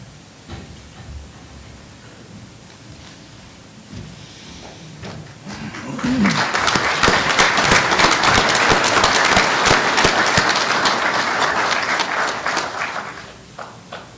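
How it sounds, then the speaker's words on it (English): Quiet room tone gives way to a burst of steady applause from a convention crowd for an award, many hands clapping together for several seconds before it fades out. "Please give him another round of applause."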